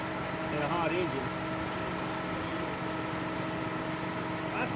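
A car engine overheating with a broken fan idles steadily in traffic, a low constant rumble with a faint whine throughout.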